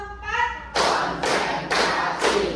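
A class of schoolchildren claps in a rhythmic chant, with four loud, evenly spaced group claps or thuds following a brief spoken call, close and strong.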